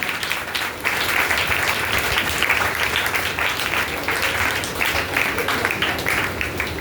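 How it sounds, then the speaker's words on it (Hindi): A church congregation at a pastor's service bursts into sustained, dense applause. The clapping starts after a brief pause and stays loud and even to the end. "अपने लिए ताली लगाएं"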